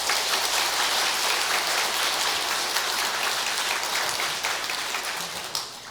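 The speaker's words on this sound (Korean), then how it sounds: "박수 부탁드리겠습니다." A church congregation applauding at a New Year's Eve service, a dense sustained wash of clapping from many hands that thins and fades near the end.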